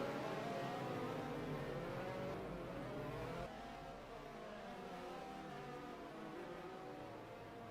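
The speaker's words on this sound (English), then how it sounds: "we're getting back onto the track very shortly as the cars go round on the rolling lap" Race cars on a rolling lap at King's Lynn drone round together in a steady, loud blended engine roar, with the pitch shifting slightly partway through as the pack moves.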